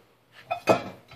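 Pots and pans clink and clatter in a cargo trailer bar: two quick metallic knocks close together, then a faint rattle, short and nearby in an otherwise quiet space.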